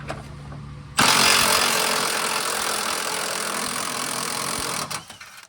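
Socket wrench on a long extension working a lower control arm bolt on a 2005 Ford Mustang 4.0 with a broken ball joint: a loud, steady mechanical whirring burst starts suddenly and runs for about four seconds before cutting off.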